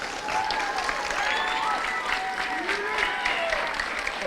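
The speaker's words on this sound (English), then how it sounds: "Give him a round of applause again." A school audience applauds a speaker at an assembly, with dense, sustained clapping from a crowd filling the room, steady and fairly loud, while faint voices and whistles rise above it.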